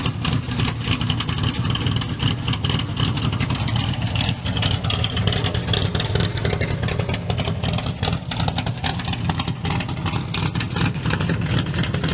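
A Dodge van engine idles with a deep exhaust rumble and revs repeatedly, loud and close, steady throughout with no talking.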